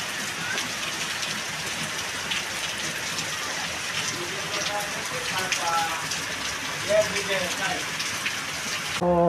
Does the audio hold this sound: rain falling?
yes